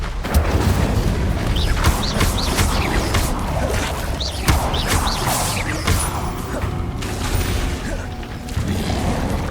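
Incendio fire spell cast in Hogwarts Legacy, heard as dense, loud bursts of roaring flame with booming impacts and whooshes in a busy combat mix, repeated across the whole stretch.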